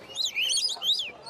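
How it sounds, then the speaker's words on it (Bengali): A coconut lorikeet at a bird market in Mirpur, Dhaka, gives a short run of shrill, squeaky chirps, close and loud, with a brief gap between bursts. "coconut lorry"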